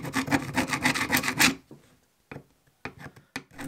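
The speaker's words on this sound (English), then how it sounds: "That's why I'm using a screwdriver to scrape off all the encrusted mud to see if I can free up the action." A screwdriver scrapes encrusted mud off an old, seized G10 air pistol recovered by magnet fishing, a dense run of rapid rasping strokes for about a second and a half, then a few short separate scrapes after a pause.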